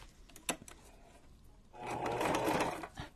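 A sewing machine stitches a junk journal cover: a few short clicks and thumps, then a loud, steady run of rapid stitching for about a second and a half before it slows.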